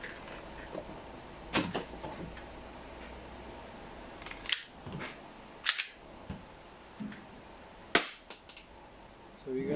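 Umarex Glock 17 Gen 5 airsoft pistol fires with blowback, giving several sharp, scattered snapping cracks over a quiet room background, close but moderate in level.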